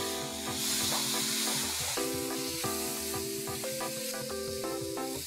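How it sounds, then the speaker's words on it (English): Finely chopped tomatoes sizzle and fry steadily in a pan, a continuous close hiss, while a stirring utensil scrapes and a tonal sound rings over the cooking. "I'm going to add these tomatoes and cook them till they're nice and soft."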